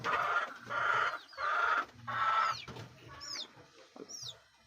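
Backyard chickens suffering from colds give bursts of clucking and rasping calls, several birds close by, with a few sharper high squawks toward the end.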